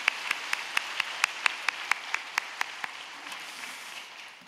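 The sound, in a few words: applause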